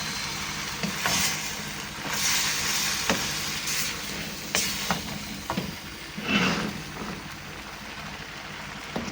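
Soy sauce added to a hot pan gives a moderate, continuous sizzle and crackle, broken by clinks and scrapes of cooking utensils.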